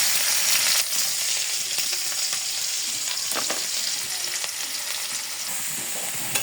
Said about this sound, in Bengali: শাকটা বাগার দিয়ে দিই, ভাপ দিয়ে নামায় রাখছি